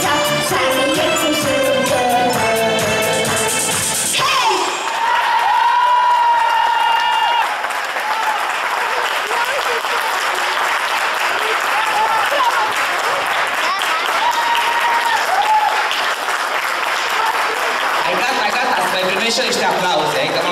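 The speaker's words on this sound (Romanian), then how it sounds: "și niște aplauze" A live stage audience in a hall breaks into dense, sustained applause with some crowd noise, loud and continuous after a few seconds of music, filling the rest of the stretch.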